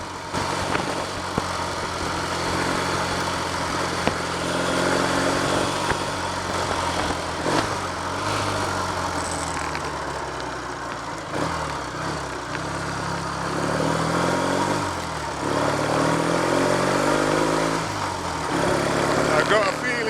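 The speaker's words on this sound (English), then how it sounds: "Engine runs nice and smooth though." A Triumph Trophy TR5 motorcycle engine runs smoothly at a steady idle, close and continuous throughout, with a slight rise and fall in pitch.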